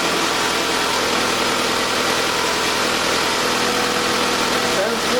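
A 2006 Toyota Camry 2.4L high-mileage engine idling after replacement, with a vacuum hose left off, a steady dense close-up hum and rattle holding evenly throughout.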